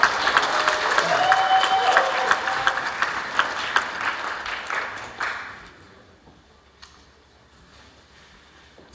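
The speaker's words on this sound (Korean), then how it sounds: "다시 한번 큰 박수로 맞아주시죠." A crowd applauds loudly to welcome a guest speaker at a university graduation ceremony. The dense clapping lasts about five seconds, then tapers off into a quiet hall with a few scattered claps.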